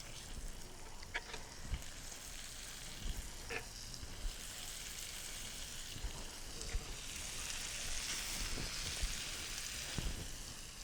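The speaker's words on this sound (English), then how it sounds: "You can hear it sizzling." Steady crackling sizzle of pork tenderloin frying in a pan, soft and continuous with a few sharper pops, no voices.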